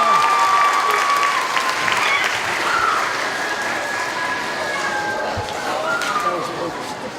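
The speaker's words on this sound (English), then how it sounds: "Let's give him a round of applause." Audience applause after a science demonstration at a Christmas science show, a sustained wash of clapping from a crowd that holds steady for several seconds before tapering slightly.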